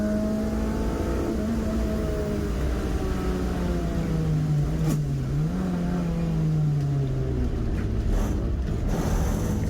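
A clubman saloon race car engine drones steadily, pitch dipping and wavering as the car slides through oil on a wet track, with a few faint clicks and squeaks over constant road noise.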